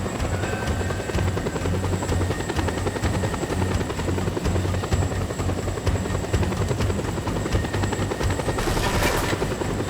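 Close, loud helicopter rotor thump and turbine whine from Just Cause 2 drone on steadily for the whole stretch, with a brief sharp burst near the end.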